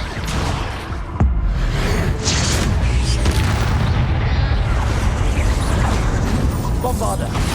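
Bombarda and Confringo spell blasts in Hogwarts Legacy land as a rapid run of deep booms, bursts and swooshes in close succession, loud and continuous amid game effects and a voice.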